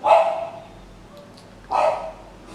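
A dog gives two loud, close barks about a second and a half apart, with a quiet gap between them and no talking.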